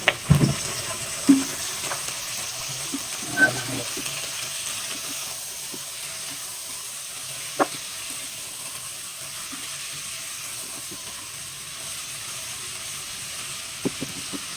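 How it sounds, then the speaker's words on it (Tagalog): Soft, steady sizzling of chicken sautéing in a pan for tinola, with occasional light clinks and scrapes of stirring; no voices. "Yan, igigisa na natin itong manok."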